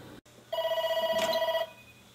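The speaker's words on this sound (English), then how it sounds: "we're getting a call on the phone of science" A telephone rings once, a single buzzing, warbling electronic ring of about a second, close and clear in a quiet room.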